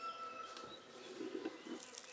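Honeybees in an open hive during an inspection make a faint, steady buzzing hum, with a few louder passing drones.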